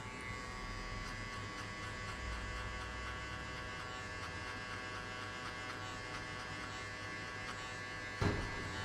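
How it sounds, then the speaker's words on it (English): Electric hair clippers run with a steady, even buzz while trimming hair during a high skin fade haircut, close and continuous, with one brief louder knock near the end and no talking. "So now grab your clipper, open the arm to the end, the level to the end, and cut only 1 inch from here."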